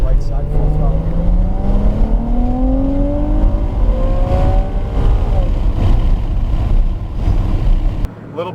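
A race car's engine pulls at full throttle on a track, its loud, close roar climbing steadily in pitch as it accelerates. Someone speaks over the engine.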